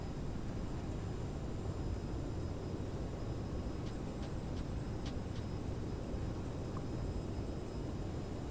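A CRJ700 rolls out on landing in stormy weather in Microsoft Flight Simulator 2020 with thrust reversers at full power, a loud, steady, broadband engine roar that fills the cabin with a few faint clicks on top.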